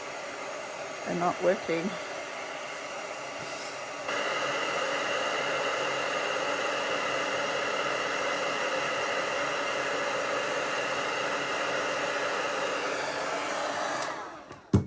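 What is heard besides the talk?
embossing heat tool blowing hot air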